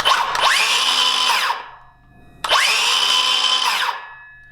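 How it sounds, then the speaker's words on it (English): A Milwaukee cordless drill runs in two loud, sustained bursts of drilling, each winding up to a high steady whine and then spinning down, with a short pause between them and no talk. "definitely feel like the Milwaukee maintains a higher RPM when drilling"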